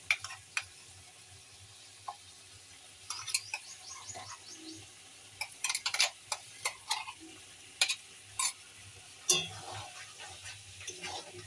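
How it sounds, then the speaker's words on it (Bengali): Ground mustard and cumin paste stirred into a curry in a pan, with soft scraping and wet clicks of a spoon against the pan, scattered irregularly over a quiet, faint background. "কিছুক্ষণ তরকারিটা নাড়াচাড়া করার পর আমি যে সর্ষে জিরেটা বেটে রেখেছিলাম ওটা দিয়ে দিচ্ছি এর মধ্যে"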